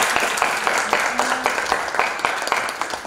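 Scattered audience applause at a school OSIS upgrading session on public speaking, a few claps spread through the room at moderate loudness, with brief voices mixed in.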